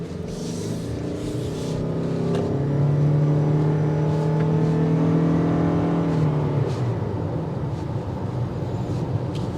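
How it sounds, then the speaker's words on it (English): A 2023 Toyota Crown Limited's engine drones loudly and steadily, its pitch climbing as it accelerates, then easing off, heard from inside the vehicle with no talking. "it's going to get noisy because of the type of engine that we are in"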